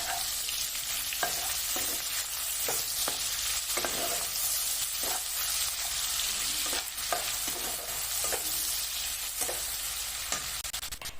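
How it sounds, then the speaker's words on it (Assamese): Chopped onions drop into hot oil with cumin seeds, whole garam masala and a dried red chilli for a rohu fish curry, sizzling steadily and close, with repeated clicks and scrapes of a spoon stirring the pan; no talking. "লগতে দি দিম মই এতিয়া কাটি ৰখা পিয়াজখিনি"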